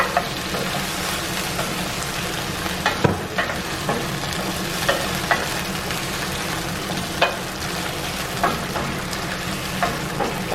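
Chicken and vegetables stir-fry in a pan with teriyaki sauce, giving a steady close sizzle broken by repeated scraping stirs of a utensil against the pan.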